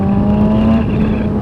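A 2015 Kawasaki Ninja 1000 sport motorcycle accelerates hard, its engine note loud and steady with a strong whine that climbs and then levels off, no voices over it.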